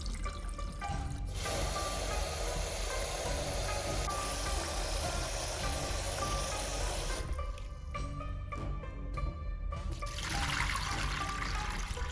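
Water runs and trickles steadily as basmati rice is washed, with a constant flowing wash that drops out briefly near the end before resuming; no one speaks.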